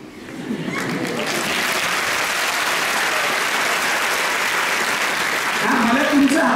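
A seated audience applauds a speaker at a lecture on Shivaji's life: a steady, dense wash of clapping from many hands that swells slightly toward the end, with no talk over it.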